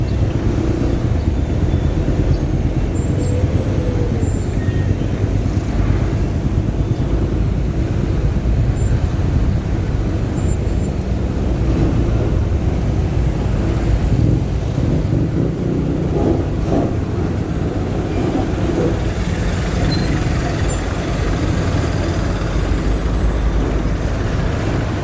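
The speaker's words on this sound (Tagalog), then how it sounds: "Medyo may kunting traffic dito." Highway traffic at a road concreting site in Agdao, Davao City, produces a continuous low rumble of passing vehicles and trucks with wind noise, steady and moderately loud throughout, with no talk.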